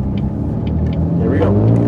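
A project car rolls along quiet side roads, its engine a steady low rumble close by with a faint rise in revs near the end, and no one speaking over it.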